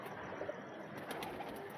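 Soft, low pigeon cooing murmurs through a quiet room at night, faint and steady with a few slightly louder swells.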